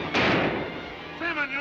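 Gunfire in a Hollywood Western movie shootout: one sharp, loud report followed by a brief echoing tail, with a voice speaking over the end.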